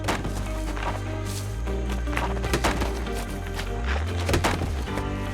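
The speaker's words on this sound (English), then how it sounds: "The sound of big-horned sheep smashing their horns together can be heard echoing across the Rocky Mountains" Bighorn sheep rams in the Rocky Mountains clashing horns, sharp woody cracks repeating irregularly over a steady background of music-like drone.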